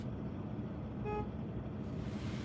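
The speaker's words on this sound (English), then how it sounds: "Who honked at me?" A car horn beeps once, short and fairly faint, out on a street near the beach, with steady traffic rumble around it.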